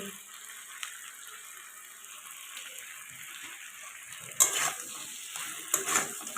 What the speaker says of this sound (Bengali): মিট মশলাগুলো দিয়ে দিলাম কিছুক্ষণ আমি আরও একটু ভালো করে কষিয়ে নেব